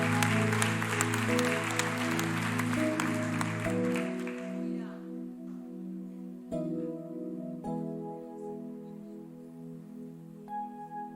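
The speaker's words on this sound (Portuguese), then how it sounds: "Aplauda o nome do Senhor." A church congregation claps for about four seconds, dense but fairly soft, over sustained organ or keyboard chords that keep playing after the clapping fades.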